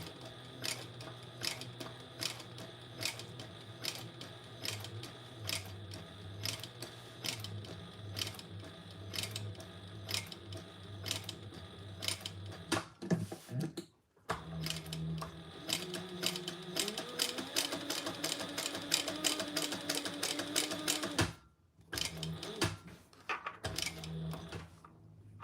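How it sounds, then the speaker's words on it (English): Black thread on white fabric runs through a sewing machine stitching a crossbody bag, giving a rapid, regular ticking patter that speeds up and pauses in short runs, quiet and near. "And now we're just going to stitch around that"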